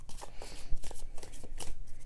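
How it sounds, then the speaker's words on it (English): Tarot cards are riffled and shuffled by hand in quick, papery bursts of flicks and soft slaps, close and alone. "looking at me shuffle the cards"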